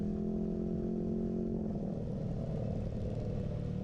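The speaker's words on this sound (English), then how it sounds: "Ryker 600 with the Predator exhaust, when I'm kind of revved up, accelerating, and then I drop it down" A Can-Am Ryker 600 with a Predator exhaust revs high with a steady exhaust drone, then drops off as the rider decelerates, the note turning rougher and lower.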